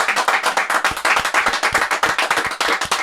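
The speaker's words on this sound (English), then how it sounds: "Let's give a round of applause for Diego Pavia." A small group claps for a football quarterback on a talk show, brisk close hand claps in a quick uneven rhythm lasting a few seconds.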